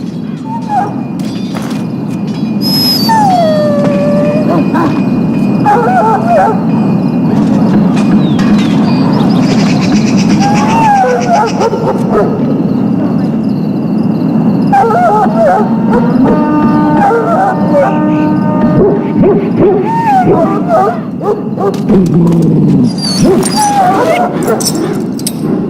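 A sick hound that swallowed darkspawn blood in Dragon Age: Origins whimpers, whines and lets out wavering howls across the span, fairly close, with game music and voices underneath.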